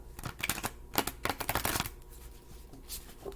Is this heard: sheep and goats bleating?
no